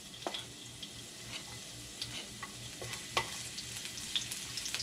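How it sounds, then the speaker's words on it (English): Garlic sizzles in melted coconut oil in a pan for seafood pancit canton, a steady close frying hiss with small pops and a few stirring clicks. "Saute the garlic."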